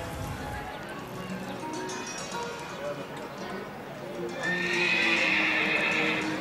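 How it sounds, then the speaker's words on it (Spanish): A grey Hispano-Arab horse at a doma vaquera dressage competition neighs and whinnies, with clip-clop of hooves and a loud high whinny near the end, under a commentator's voice. "Y este otro caballo hispano-árabe"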